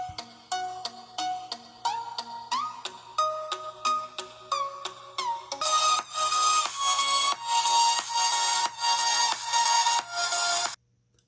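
A tune plays through the built-in speaker of a Blu Advance A4 phone from 2019, loud and steady with bright ringtone-like notes that get denser and fuller partway through before stopping abruptly.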